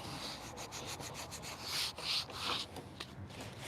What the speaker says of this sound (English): Getting off the excess glue